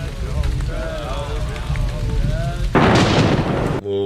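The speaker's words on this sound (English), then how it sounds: "Oh, wow, the lightning." A lightning storm in a TV war drama brings steady rain hiss and low rumbling thunder, swelling into a loud crash near the end.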